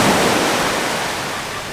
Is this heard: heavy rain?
no